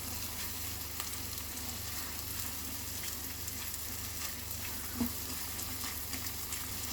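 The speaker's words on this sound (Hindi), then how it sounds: "अदरक लहसुन को भी प्याज के पेस्ट के साथ हम 5 से 6 मिनट के लिए कुक करेंगे" Onion paste and ginger-garlic paste fry in oil in a pan, giving a soft, steady sizzle with faint occasional pops and stirring scrapes, and no voices.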